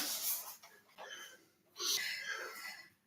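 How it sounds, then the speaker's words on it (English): Two audible breaths, an exhale then another longer one, come close and fairly soft from an older adult holding a glute-lifting exercise position. "Breathing. I want to hear that breath."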